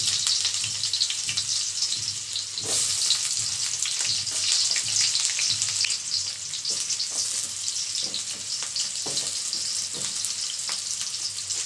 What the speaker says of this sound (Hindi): ऑयल गरम तो इसमें मैं डाल दूँगी अपना प्याज